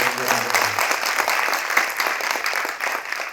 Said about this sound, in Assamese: আপোনালোকৰ ফালৰ পৰা এটা ভাল হাত চাপৰিৰে তেখেতসকলৰ লগত